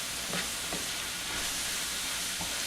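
Ground beef with onions sizzles gently over low heat while a tablespoon of parsley and spices are stirred through it for zucchini boats, giving a steady soft hiss broken by a few brief scraping strokes.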